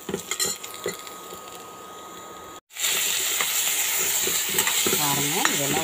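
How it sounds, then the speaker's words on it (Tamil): Onion, capsicum and tomato sautéing in a pan for a simple gravy, a steady close sizzle with metal utensil clinks and stirring scrapes, a brief dropout midway, then a louder sizzle with no talking. "ஆனியன், கேப்சிகம், டொமேட்டோ இப்போ சேர்த்துக்கலாம். இதையெல்லாம் ஒரு நிமிஷம் நல்லா வதக்கிக்கலாங்க."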